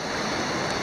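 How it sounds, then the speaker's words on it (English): Ndoro waterfalls in Tanzania: loud, steady broadband roar of falling water heard close up, constant and unbroken, with no talking. "Tushafika chini kule kwenye waterfalls yenyewe, Ndoro waterfalls."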